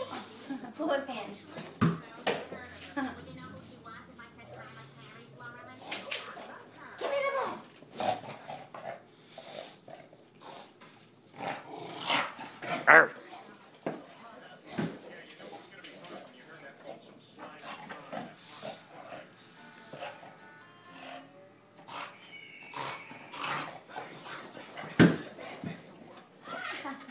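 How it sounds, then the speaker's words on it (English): A tired dog whimpers and cries in thin, repeated whines after a game of fetch with a ball. A person talks throughout, and there are scattered thumps and rustles from play. "He's getting a little tired. He's crying at me."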